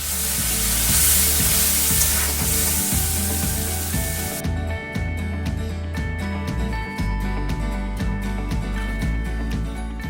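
Cumin seeds splutter in hot oil while tempering Odia dalma: a loud, hissing sizzle at first, then quieter crackling under stirring and a steady background tune.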